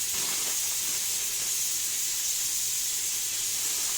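Chicken breast and plenty of onion frying in ordinary oil, a constant loud bright hiss of sizzling that holds steady from start to finish, with no voices.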